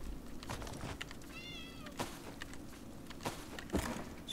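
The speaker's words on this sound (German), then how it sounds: "Katze, du kannst so viel miauen," A cat meows in The Elder Scrolls Online, a single clear, drawn-out meow near the middle amid faint game ambience and a few light thuds and footsteps.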